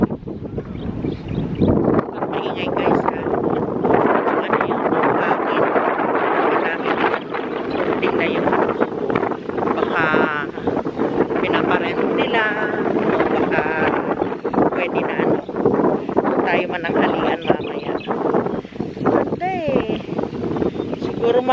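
Wind buffets the microphone in a constant rumbling roar, with people talking underneath throughout.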